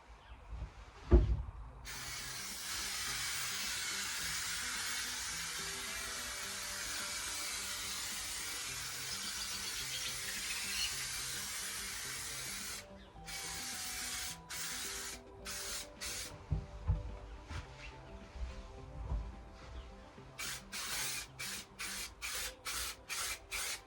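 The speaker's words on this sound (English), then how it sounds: "you spray onto the fleece as well, let it go tacky, and then you just stick it on" A long continuous aerosol spray of adhesive onto thermal fleece hisses for several seconds, then shorter bursts of spraying follow, interspersed with rubbing and light handling noises, close by, during a camper van lining build.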